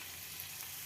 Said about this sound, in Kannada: ನೋಡಿ, ಇದನ್ನು ತೊಳೆದಿಟ್ಕೊಂಡಿರೋವಂಥದ್ದು ಚಿಗಡಿಕಾಯಿನ ಇದಕ್ಕೆ ಹಾಕ್ತಾಯಿದ್ದೀನಿ.